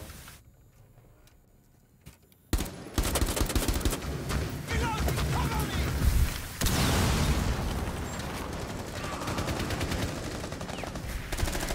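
Rapid bursts of automatic gunfire crackle in a ranked Xbox shooter match, starting suddenly after a quiet opening and staying dense and loud throughout with overlapping shots and impacts.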